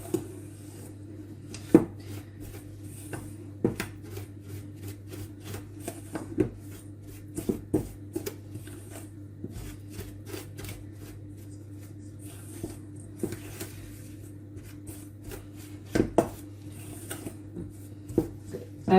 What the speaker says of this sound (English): So let's mix this for a moment.